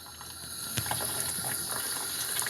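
An artist's paint brush is swished and rinsed in water, giving a close, continuous watery churning with small splashes and bubbling over a steady hiss.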